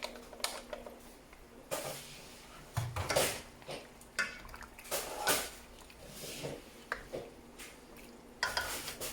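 A spoon stirs pineapple tidbits into a chicken stew in a pot, giving soft scraping, clinking and wet squishing sounds in irregular bursts at close range.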